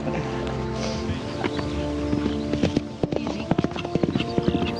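Horse hooves clip-clopping in a movie scene, a run of sharp uneven hoof strikes that quickens and grows more distinct toward the end over a busy tonal background.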